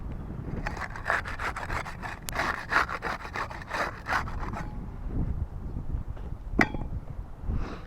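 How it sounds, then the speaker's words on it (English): A putty knife works under a roof shingle to break its seal, giving rapid, close scraping strokes for several seconds that then slow into sparse, separate scrapes. "We'll get started with the putty knife. We'll use that to unseal shingle 7 there, the top shingle."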